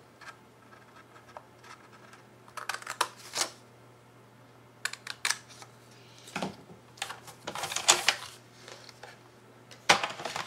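Paper is cut for an explosion box craft in a run of short, close snipping and rustling bursts, irregular and moderately loud over a low steady hum.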